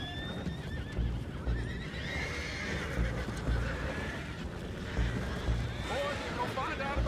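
Horses whinny and neigh in a Red Dead Redemption 2 scene, with hooves clopping over a constant rumbling ambient bed, while people talk throughout.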